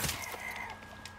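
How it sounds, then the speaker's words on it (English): Chickens in the Resident Evil Village video game give a short burst of clucks and a thin crowing cry over faint game ambience, quiet and brief with no speech. "More poultry!"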